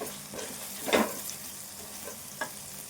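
Prawn curry with red chili powder is stirred in a pan, giving a soft continuous sizzle broken by a few spatula scrapes, one louder near the start. No speech.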